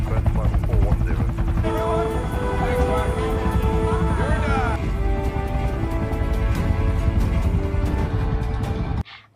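Helicopter from the film Everest landing at a high mountain airstrip, a loud continuous rotor and engine drone with layered harmonics throughout, under music, cutting off sharply near the end.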